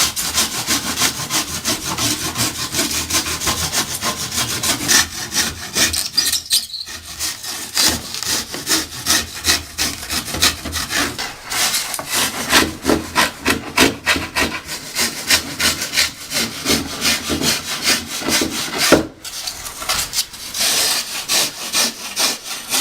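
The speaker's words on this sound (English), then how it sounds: "And then we can just cut along like this. And then if we need to get a little bit closer," Foam being cut and rasped by hand while shaping a Bennet Yacht Club boat: steady back-and-forth scraping and sawing strokes, close and fairly loud, running throughout with a brief pause near the middle.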